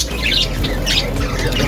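Parrots squawking close by in a short burst of harsh, repeated raspy calls over a steady background hum.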